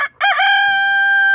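A rooster crows close by, a loud call that holds one long, steady tone after a brief gap.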